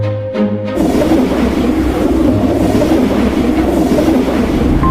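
A passenger train runs steadily along the rails, a loud continuous rumble with a low clatter that fills the whole stretch after a brief opening moment.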